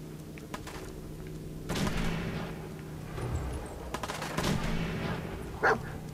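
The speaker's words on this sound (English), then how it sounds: "Shoot, they're still shooting at people." Gunfire in the video game Fallout 4 comes as scattered sharp shots and bursts over a constant hum of background noise, moderately loud, with one louder crack near the end.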